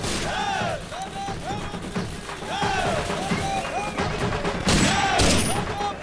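Celebratory gunfire at a birthday gathering for a raja, crackling volleys of shots mixed with crowd noise and shouting, steady and loud across the scene.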